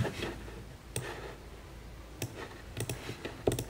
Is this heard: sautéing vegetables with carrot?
no